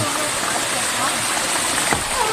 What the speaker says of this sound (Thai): น้ำตกหน้าผาครับ